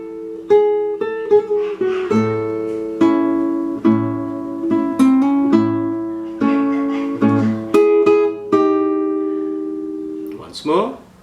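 Plucked notes and chords ring from a guitar through the first three measures, a steady sequence of picked notes close up, ending in a brief string noise.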